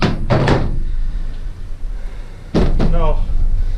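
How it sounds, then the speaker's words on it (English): A hard epoxy mallet knocks a power steering pump shaft loose during a pump rebuild, with a couple of sharp knocks early and another close burst near the end, along with some talk. "Use the hard epoxy side. It won't mushroom the shaft, and it just needs to knock it loose."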